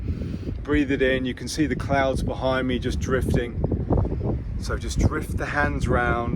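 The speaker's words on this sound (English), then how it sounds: "Bit of wind today, so hopefully the camera won't get blown over." Outdoor wind buffets the camera microphone in low, uneven rumbles beneath a person speaking calmly throughout.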